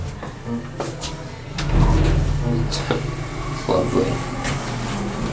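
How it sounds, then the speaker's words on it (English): A Savaria LULA hydraulic elevator with a roped hydraulic motor and Kone door equipment gives a steady low motor hum and a few soft door clunks, while a voice speaks briefly. "A weird sounding rope hydraulic motor."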